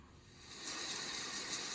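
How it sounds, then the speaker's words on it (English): Spring rain falling as a steady, soft broadband hiss that swells slightly and holds, fairly quiet and continuous with no voices. "That's the sound of spring rain."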